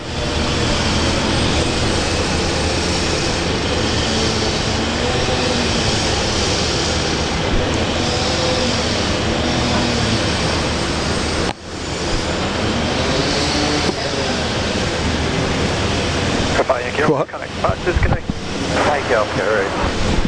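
A Korean Air airliner moving at Brisbane Airport, a broad steady jet engine roar sustained for most of the span, fairly loud, with a brief dip and some bumps near the end and a voice talking over it.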